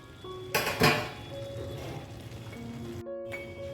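A metal lid set down on a pan of Bengali mixed vegetables, two sharp clanking hits close together near the start, then a softer clink and ringing metal tones that fade out.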